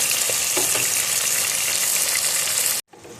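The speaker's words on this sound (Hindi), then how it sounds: "ये हमारा टमाटर का मसाला बन रहा है" Tomato masala frying in a pan for a seekh kebab karahi, a steady close, loud sizzle with faint stirring clicks that cuts off abruptly near the end, leaving a quieter hiss.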